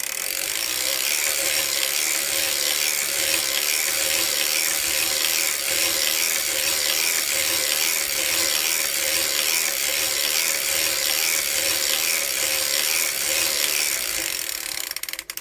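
A hand-cranked circular sock knitting machine clicks and ratchets continuously as rows are knitted, a close, steady mechanical clatter with no talking.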